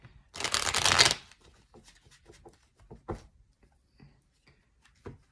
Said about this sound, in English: I'll do a shuffle, get those cards nice and